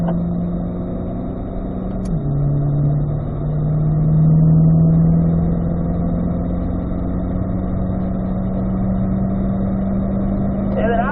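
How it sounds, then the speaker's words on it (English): Chevrolet C8 mid-engine Corvette accelerating in fifth gear down a straightaway at a driving school, a loud steady engine drone with pitch climbing smoothly after a brief dip, heard from inside the car. "As we're going down this straightaway, we are actually going to be going up to fifth gear."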